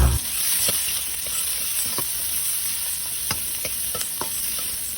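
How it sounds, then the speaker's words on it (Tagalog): Ginger, garlic and onion sizzle steadily in hot oil for a pork dish, with a constant close frying hiss and scattered sharp pops and clicks of stirring throughout, no talking. "syempre i-brown din natin yung bawang gagaya niyan. At saka natin ilagay yung ating sibuyas"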